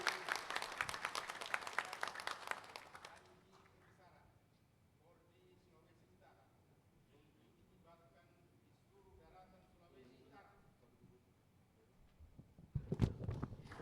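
An audience at an installation ceremony bursts into loud applause, which fades into quiet talk. A second burst of clapping rises near the end.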